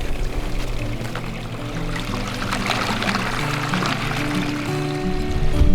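Water pours and splashes steadily down a small DIY waterfall, a continuous close rushing sound over a low hum that swells slightly at the end.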